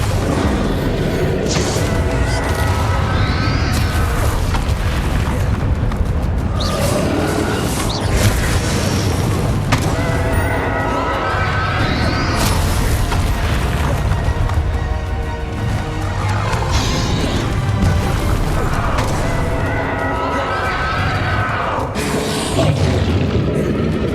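Bombarda blasting spells exploding in Hogwarts Legacy, a busy run of heavy booms and bursts spread across the stretch over constant loud game noise, with shouted spell casting now and then.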